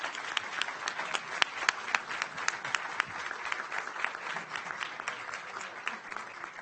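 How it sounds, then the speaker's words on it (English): An audience at a maternal health roundtable event claps in a light, uneven patter of individual handclaps, fairly close and moderately loud, lasting several seconds with no talk over it. "And give them a round of applause."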